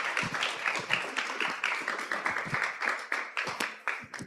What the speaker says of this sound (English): A round of applause for all the previous presentations and for Euros.